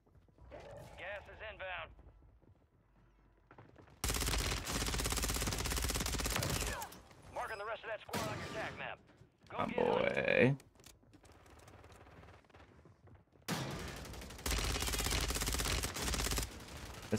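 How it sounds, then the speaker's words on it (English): Rapid SMG bursts firing a 9mm ISO in Warzone 3, several loud sustained volleys broken by short pauses, mixed with game effects and voices talking. "This SMG is so good."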